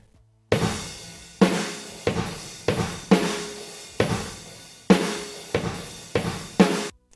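A slow, heavy drum groove pounds alone, each kick and snare hit trailing a smeared echo that thickens the room sound.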